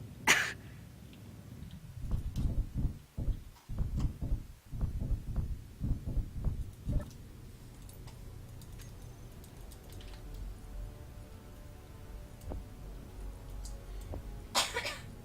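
A person coughs repeatedly indoors, a run of harsh bursts clustered in the first half, followed by quieter background and a couple of later throaty sounds.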